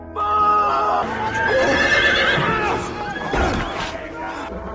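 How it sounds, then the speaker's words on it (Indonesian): A horse neighs loudly and long, its whinny rising and falling close up with a little movement around it. "Biarawan itu kemudian kabur dengan menaiki kuda milik Jack"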